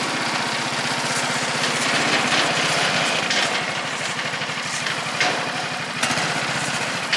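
A Snowdog B7ZE motorized dog with a homemade welded chariot hitched behind runs steadily in a cramped yard, a loud, even small-engine drone with a rapid pulsing beat throughout.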